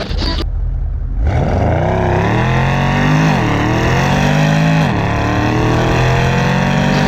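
A Porsche Panamera Turbo with catless downpipes starts up with a loud roar and then revs hard and close, its engine pitch rising and falling in repeated surges before a launch.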